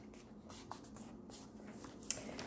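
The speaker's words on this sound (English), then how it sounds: "I'm just going to fold it in half." Cardstock is folded in half for a layered Christmas card, giving faint, soft paper rustles and light creasing scrapes close by in a quiet room.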